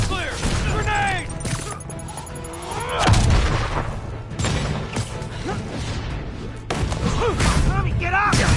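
Grenade blasts and combat noise in the Spider-Man PS4 video game, with dense booming impacts and crashes continuing throughout under shouted voices, loud and close.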